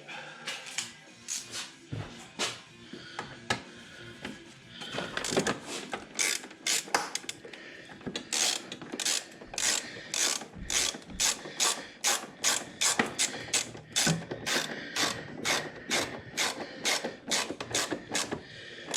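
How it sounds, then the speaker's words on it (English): A hand ratchet tightens bolts on a John Deere 1025R tractor, its pawl clicking in quick close bursts at first, then settling into a steady run of evenly spaced clicks with no talk. "Ratchet."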